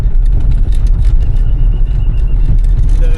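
A car being driven into a parking area at Murudeshwar temple in the evening, giving a loud, continuous engine and road rumble right up close.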